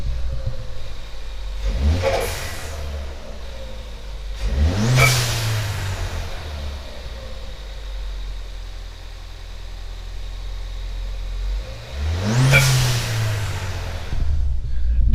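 A Ford Fiesta ST engine with a DIY cold air intake revs hard three times over a steady idle, each rev rising sharply with a slight flutter as it drops back down.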